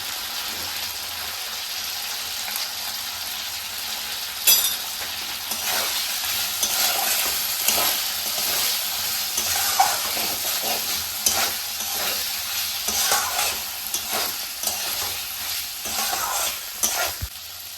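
Potatoes and salt frying in a pan for a koi fish curry, loud continuous sizzle punctuated by repeated spatula stirring and scraping strokes close by, no talk.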